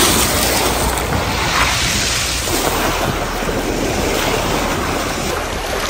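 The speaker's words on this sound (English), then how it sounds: "It's a bit windier and wavier than it was yesterday" Wind and sea waves at Sochi beach form a steady, loud roar of surf and gusting air that fills the whole stretch without a break.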